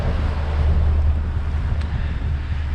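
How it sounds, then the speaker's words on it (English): Sailboat S/V Magnolia motor-sailing under jib alone across Port Royal Sound, a loud steady low rumble of engine, water rush and wind buffeting the microphone, unbroken throughout. "Motor sailing right now with just the jib up."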